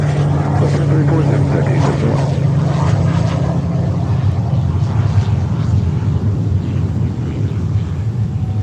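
A Pilatus PC-12 single-engine turboprop, Swiss-built, at Fort Lauderdale-Hollywood International Airport gives a loud, steady propeller drone with a low hum, heavy and constant throughout while other airport noise mixes in.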